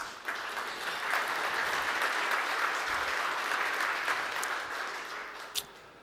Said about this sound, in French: Je pense qu'on peut tous s'applaudir